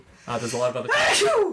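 A single sharp human sneeze bursts out in the middle of casual podcast conversation, loud and close, with a voice talking just before it.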